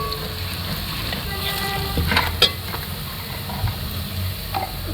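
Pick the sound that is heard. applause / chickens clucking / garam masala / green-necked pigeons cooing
garam masala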